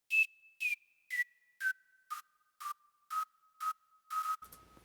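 About nine short synthesized hi-hat hits made in Serum with heavy filter resonance, each carrying a ringing, whistle-like pitched tone that steps downward, evenly spaced and isolated against silence.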